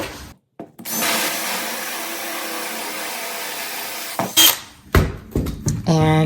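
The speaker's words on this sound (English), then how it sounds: "and then drill my holes" A power drill fitted with a 1 1/4 inch hole saw whirs steadily through a hole for about three seconds, then gives short bursts, with faint knocks between them.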